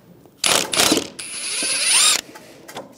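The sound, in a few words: ratchet with 18mm deep socket loosening a nut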